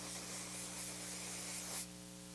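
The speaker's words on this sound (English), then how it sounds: "we're going to start with a little spray of hairspray here" Hairspray aerosol spritzed onto hair while setting victory rolls, a steady close hiss lasting nearly two seconds then cutting off abruptly, leaving a faint hum underneath.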